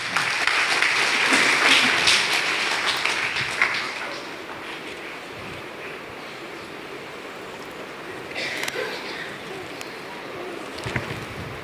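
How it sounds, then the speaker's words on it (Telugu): Congregation clapping loudly together during a Sunday church worship service, a dense burst of applause that gradually thins and fades, with a few scattered claps returning near the end. "గట్టిగా చప్పట్లు కొడదాం."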